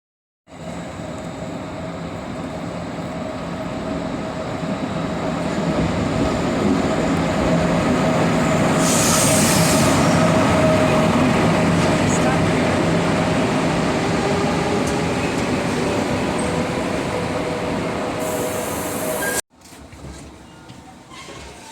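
Steady low rumble and hum inside a moving passenger train from Zagreb to Ljubljana, constant rolling noise with faint hiss, ending in an abrupt drop to quieter ambience.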